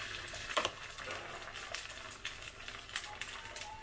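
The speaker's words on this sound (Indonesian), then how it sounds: "Kita goreng bihun telurnya tadi ya" A ladle of beaten egg with rice vermicelli fries in a little oil in a pan, giving a soft, steady sizzle with occasional crackles and stirring, close and quiet.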